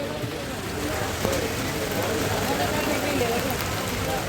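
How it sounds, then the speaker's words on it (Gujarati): Rain falls steadily on surfaces outdoors at a crowded riverside ghat in Haridwar, a dense, even hiss that runs without pause under faint background voices. "વરસાદ થઈ ગયો ચાલુ."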